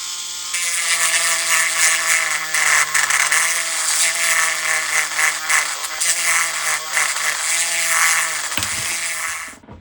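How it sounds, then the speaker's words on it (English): A power sander whines steadily against a plastic action figure, a high buzzing grind that wavers slightly in pitch for several seconds before cutting off. "just by doing a sanding job rather than going in there with brute force"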